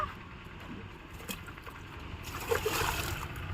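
Pond water splashes and sloshes as freshly caught fish are washed, quiet scattered dabbling that grows into louder splashing toward the end, outdoors with faint background noise.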